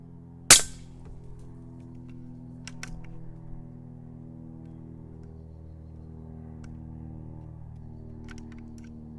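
A single sharp shot from a Taipan Veteran standard .25 PCP air rifle at about 55 foot-pounds, followed by faint mechanical clicks and a quiet steady hum.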